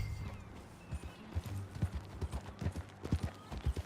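Horse hooves clip-clop on the ground in Red Dead Redemption 2, a quick uneven run of soft thuds at moderate distance over a low ambient bed, with no talking.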